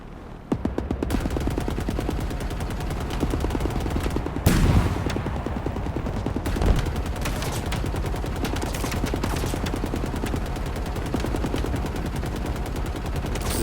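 Rapid, continuous automatic gunfire from Halo Infinite combat, dense and loud throughout, with a few heavier blasts standing out amid the steady stream of shots.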